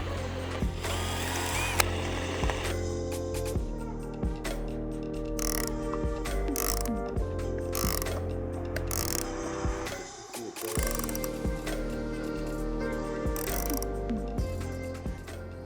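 Repeated mechanical clicking and ratcheting with grinding, whirring bursts as a hand tool installs plus nuts for a roof rack on a Ram 1500, close and busy throughout with no talking.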